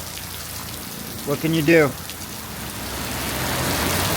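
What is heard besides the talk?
rain falling beside road traffic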